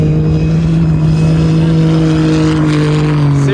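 A T1 rally car, a BRX, approaches at speed on a desert track in the Dakar rally, its engine droning steadily and loudly throughout with a rising tone toward the end, and faint background noise underneath.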